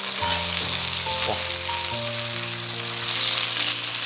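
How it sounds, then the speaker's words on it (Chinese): Lionfish fries in hot oil in a wok, giving a steady, close sizzle throughout. A voice gives one brief exclamation. "然后把鱼给下锅煎一下，先不要动它，一面先给它煎上色哈"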